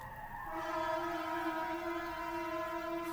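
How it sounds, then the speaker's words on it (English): Fire engine siren heard at a distance, a steady sustained wail holding one tone for several seconds with no voices over it. "Fire engines."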